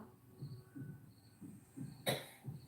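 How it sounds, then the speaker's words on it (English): A single sharp cough bursts out from a man with a sore throat amid quiet background murmuring and faint chirping insects, fairly close but not loud. "You hear him back here coughing?"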